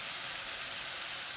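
Tomatoes being stirred into a hot pan for beef stew sizzle in a steady, even hiss, close and continuous with no talking.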